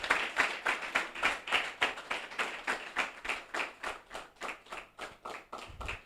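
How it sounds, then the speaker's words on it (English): A training-event audience in Cross River State claps in unison, steady rhythmic beats at roughly three per second, close and even, continuing without speech. "Keep clapping till he comes."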